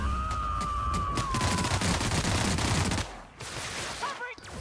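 Gunfire from a weapon in the video game The Outer Worlds: a dense, rapid stream of shots for about three seconds with a whining tone over it, then a brief lull and a few softer bursts, with game voices faintly present.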